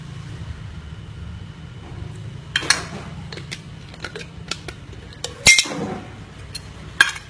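Pickled baby eggplant is tossed and mixed in a bowl with fish sauce, giving scattered close clinks and taps of a utensil against the dish over a low steady background hum, with no talking.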